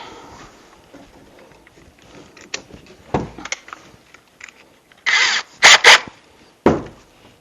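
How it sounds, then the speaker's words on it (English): Several short bursts of a cordless drill whir in and out while reinforcing a bench, separated by pauses with quieter clinks and handling noises in between. "So I'm going to switch over to my drill."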